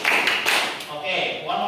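A class of students claps once together in a classroom, a few sharp hand claps sounding close among ongoing voices.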